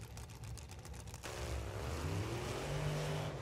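A Top Alcohol Dragster engine runs at a drag strip, a dense low rumbling roar heard from a distance that swells and holds steady, with a brief rapid chattering before the sound broadens.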